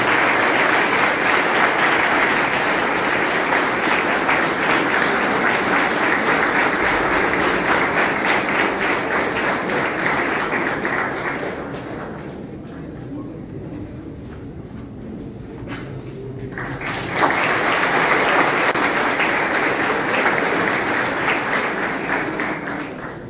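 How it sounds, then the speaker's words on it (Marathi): An audience at a Java project competition applauds a student team, a loud, sustained clapping that thins out for a few seconds midway and then swells back to full strength. "जोरदार टाळ्या झाल्या पाहिजे ग्रुपसाठी."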